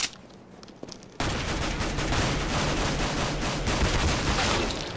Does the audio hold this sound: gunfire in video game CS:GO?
yes